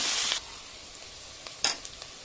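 Onions sizzle in a hot pan while being fried golden brown for vegetable biryani, with a brief bright hiss at the start and then softer sizzling, a few light stirring clicks and taps, no talking.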